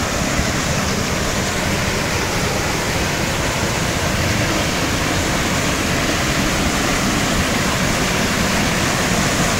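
Pure mountain water pouring down a small waterfall on a trekking path, a loud, steady, close rush of falling water filling the whole stretch with no break and no talk.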